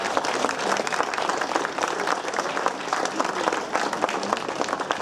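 A crowd at a cycling time-trial prize ceremony applauds steadily for several seconds, a dense, even wash of clapping with faint voices mixed underneath.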